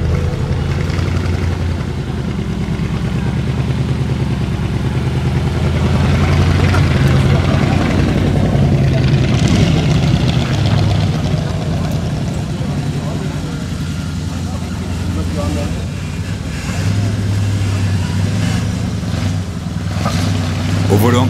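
A vintage American V8, such as a 1951 Mercury, Cadillac Eldorado or Chevrolet Bel Air, burbles at a low, steady idle close by, swelling slightly at times, with people talking over it.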